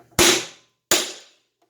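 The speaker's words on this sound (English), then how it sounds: "So we're going to hit this with a hammer," A hammer strikes the pump piston of a Graco 695 paint sprayer twice, each a sharp, loud metallic bang with a short ringing decay, close by with no talk.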